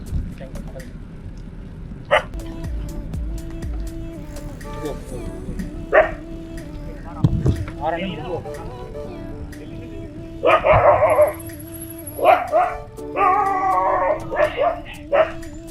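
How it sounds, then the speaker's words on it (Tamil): Stray dogs bark outdoors in scattered bursts, near and loud, with yips and whimpers over steady background noise and some talking in between. "இந்த நாய் இப்போ நாயோட தொல்லை ஸ்ட்ரேயாக என்னன்னு தெரியல."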